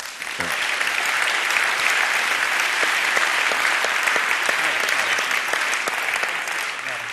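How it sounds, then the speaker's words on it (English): A TEDx audience applauds as someone comes on stage, a loud, sustained crowd clapping that starts abruptly and keeps an even, dense texture with sharper individual claps standing out. "come on stage and be greeted by applause"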